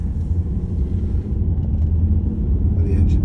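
A hybrid car pulls away with its engine running, a steady low rumble close by, rising slightly as it moves, with a brief faint voice near the end.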